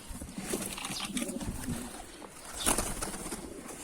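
Adana pigeons flying and cooing outdoors, faint, soft bird sounds within a steady wash of background noise, with a brief louder swell near the end.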